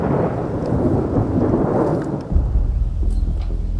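Thunder rumbling during a storm at a log lodge construction site in Montana, a long loud roll with a deeper boom near the end, layered with steady rain.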